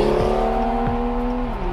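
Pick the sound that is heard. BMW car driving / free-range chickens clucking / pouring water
BMW car driving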